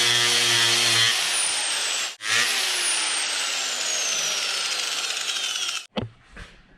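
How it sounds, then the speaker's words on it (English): A 60 grit sanding disc grinds on metal with a loud, steady, high whine and gritty rasp that runs for several seconds, then cuts off abruptly and is followed by a brief clunk. "this is supposed to be a 60 grit sanding disc"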